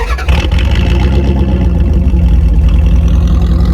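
A car engine runs loud and steady, with a low, rough rumble throughout, as if just fired up and settling into idle.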